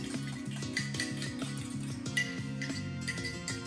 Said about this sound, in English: I have 3 eggs here. I'm just going to scramble them first before I add them to my flour mixture.